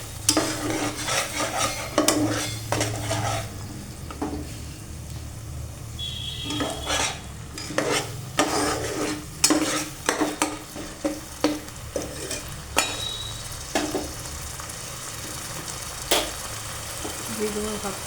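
Garlic, onion and dried chilli spice paste frying and being stirred in a pan, with steady sizzling under repeated scraping clinks of a spoon against the metal, close and fairly loud with no talk.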